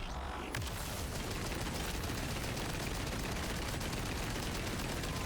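A Torg launcher firing in the video game Borderlands 4: a sudden loud onset followed by a dense, continuous roar of rapid blasts and rumble that stays intense and unbroken.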